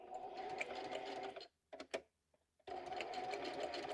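A sewing machine backstitches while a junk journal pocket is being made: a close, fast, steady run of stitching, a pause with a few clicks, then a second run of stitching.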